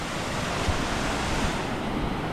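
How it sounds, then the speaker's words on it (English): Water rushes steadily through a concrete hydroelectric power station in Norway, a broad continuous roar with a slight wind-like hiss that holds even and fairly loud. "Look at all the water going through that concrete building, creating energy."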